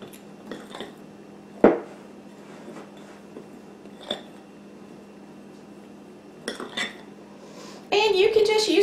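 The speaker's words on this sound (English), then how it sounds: "I make a mess with this pastry fork." A pastry fork clinks and scrapes against a bowl while blending grated butter and Crisco into dough, with a few sharp metallic knocks, scattered quieter taps and a denser clattering burst at the end.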